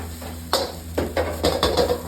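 Fried rice is tossed in a wok with the heat just switched off, a metal spatula striking and scraping the pan about five or six times in quick, uneven succession over a light sizzle, close and clear.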